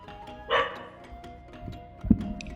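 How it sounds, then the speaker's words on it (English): Several dogs bark in short, loud bursts nearby, with a sharp yip standing out near the end over a quiet room background. "Oh my god, the dogs are so noisy."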